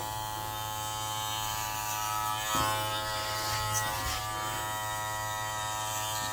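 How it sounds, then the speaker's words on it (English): Professional electric hair clippers shaving off a beard, giving a steady close buzzing hum throughout, with slight changes in tone as the blades move through the hair. "I started my beard already, but I'm gonna try to shave all this off"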